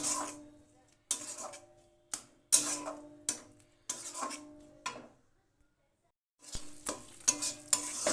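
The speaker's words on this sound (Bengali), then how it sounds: "আঁচটা লোয়েতে দিয়ে মশলাটা তৈরি করে নেব" A spice paste with green chillies fries in a pan on low heat, with a faint sizzle under repeated close scrapes and clinks of a spoon against the pan, arriving in irregular bursts around a brief silent pause.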